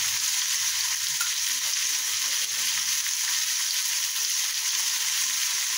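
Green chillies frying in hot oil with chilli powder and sugar, giving a loud, continuous, even sizzle close up, with no talk.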